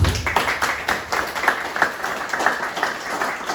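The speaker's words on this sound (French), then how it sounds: "On peut l'applaudir." An audience at a triathlon press conference applauds for a few seconds, a moderately loud, even patter of many hands clapping with no voices over it.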